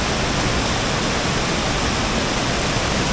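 Glacier meltwater from Buerbreen Glacier pours down as a waterfall, a steady, loud, broadband rushing roar that holds unchanged for a few seconds with no voices.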